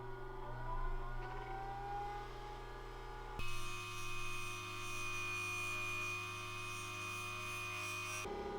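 A polishing machine works a Lake Superior agate on its final stage, a steady motorized whine that shifts pitch as the stone is pressed, then runs on with an even tonal hum before stopping abruptly.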